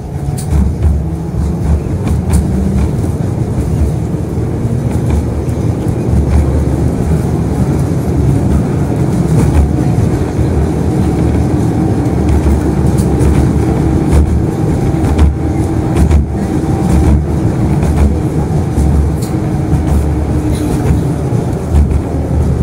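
Inside a Moscow tram on route 14, a steady low rumble of running gear and motor fills the cabin throughout, even and fairly loud with no talk over it.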